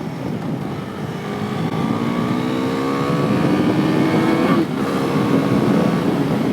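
A Husqvarna Vitpilen 401 motorcycle accelerates hard on the road, its single-cylinder engine climbing in pitch through a long pull, then briefly cutting for a gear change before rising again, loud and close over wind noise.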